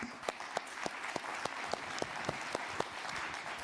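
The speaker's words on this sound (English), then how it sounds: "join me please in applauding the panelists" Conference attendees applaud the panelists at the close of a digital platforms session. The clapping is fairly faint and thin, with distinct individual claps spaced evenly through it.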